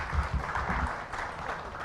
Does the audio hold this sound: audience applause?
yes